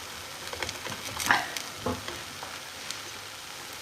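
A Breton buckwheat farz pitilig sizzles softly as it finishes cooking in a pan, with faint, steady frying crackle and a couple of brief utensil scrapes, quiet and close.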